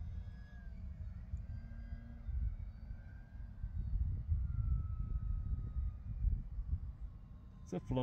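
An FMS 1200mm CJ6 radio-controlled model airplane drones steadily overhead as it sets up to land, its low engine hum swelling and fading at a moderate distance.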